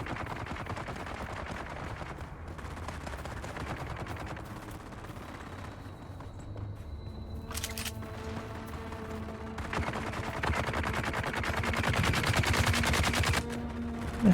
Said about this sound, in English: The hell's shooting him all the way down there?